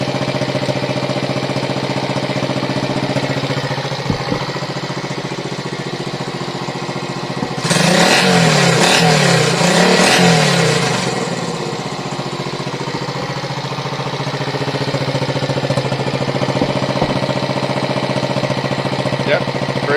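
Classic Honda motorcycle engine running steadily up close, with a louder burst of revving or throttle blip in the middle before settling back to a steady idle.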